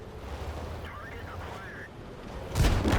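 A heavy artillery blast lands at the end during a World of Tanks battle, a sudden loud boom after a quieter rumbling stretch with faint game sounds.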